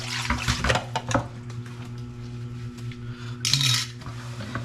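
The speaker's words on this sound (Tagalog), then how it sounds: "Pumugasan, basta sa lababo." Water running into a kitchen sink during washing up, a steady splashing hiss with clinks of dishes and a brief louder gush near the end, close by.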